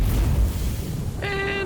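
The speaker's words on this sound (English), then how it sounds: "And another explosion." An explosion in the video game AI: The Somnium Files – nirvanA Initiative rolls as a deep, loud rumble that slowly fades, then gives way to a steady electronic tone.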